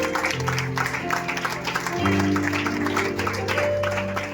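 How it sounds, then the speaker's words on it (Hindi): Congregation clapping in praise during a Hindi-language church service, steady broadband applause over sustained organ or keyboard tones, continuous and moderately loud throughout. "आइए परमेश्वर को स्तुति की ताली देंगे"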